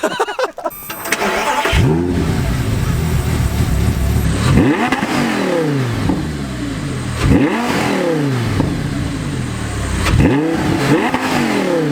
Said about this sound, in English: We'll do some revs over here, and maybe some flybys